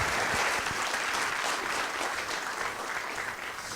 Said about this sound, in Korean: 여러분 박수로 강연 청해 듣겠습니다.